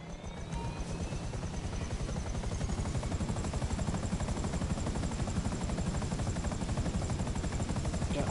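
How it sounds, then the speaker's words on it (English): A helicopter in the video game Grand Theft Auto: a steady, loud rotor thrum with dense rapid blade chopping that holds constant throughout, with no voices. "Oh, there's a helicopter."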